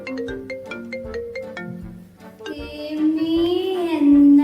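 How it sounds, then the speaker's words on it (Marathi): A melodic phone ringtone plays alone, a repeating bright tune of plucked notes that swells into a louder sustained passage near the end. "एवढी महागडी रिंगटोन तर माझ्या अप्सरेची नाही"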